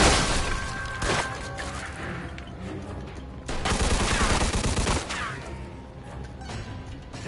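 Gunfire in a shootout in Mafia II Definitive Edition, sharp bursts of rapid shots in loud clusters separated by brief lulls, with a ringing tone and faint voices underneath.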